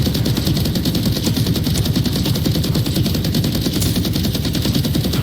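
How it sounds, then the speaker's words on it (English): Rapid, dense gunfire from the Warhammer 40,000: Battle Sister VR game, loud and continuous automatic bursts with a steady mechanical undertone. "I feel like you can like Matrix style dodge these bullets"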